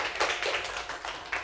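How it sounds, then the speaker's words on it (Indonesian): A group of students in a classroom claps briefly: a short burst of sharp, fairly even claps, close and alone, lasting just over a second. "Kasih tepuk tangan dulu."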